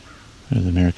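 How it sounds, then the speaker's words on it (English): An American crow caws once on a trail near open fields, a single loud nasal call of about half a second following a brief faint stretch. "There's an American crow in the background."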